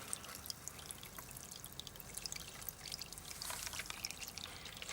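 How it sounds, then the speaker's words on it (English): Engine oil drains from the sump of a Holden VE Commodore V6 Alloytec, a faint, steady trickle with scattered drips into a container, heard alone and quiet. "Just gotta wait for that to drain, and I'll replace the plug back into it"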